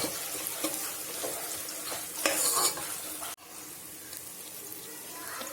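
Mint leaves sautéing with ginger garlic paste in a pan for soya chunk biryani, a steady soft sizzle with stirring scrapes, a brief louder burst midway and a sharp knock of the utensil, no talking.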